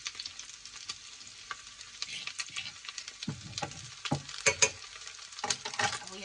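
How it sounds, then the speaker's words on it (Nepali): Chicken gizzards fry with ginger, garlic and timur over a lowered gas flame, a soft sizzle broken by intermittent scraping and stirring clacks, fairly quiet and close. "अब यो सबै हालिसकेपछि चाहिँ हामीले भुट्नुपर्छ।"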